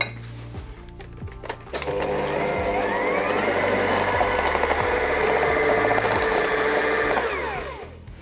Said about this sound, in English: I'm going to give it one last mix on a high speed for about 30 seconds